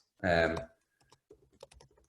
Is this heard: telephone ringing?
no